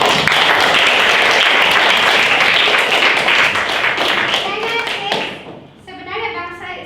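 Classroom of children clapping in a dense, loud burst of applause that thins out and fades, followed by a teacher speaking.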